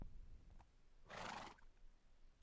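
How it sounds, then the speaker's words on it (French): Horse whinny in a Minecraft game, one short bright neigh rising at mid-clip over a quiet background, loud but brief and alone without talk. "il est en train de tuer un cheval"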